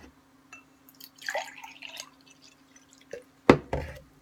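Monster Hydro Mean Green energy drink poured into a cup gives soft, intermittent dripping and trickling, ending with a brief louder splash near the close.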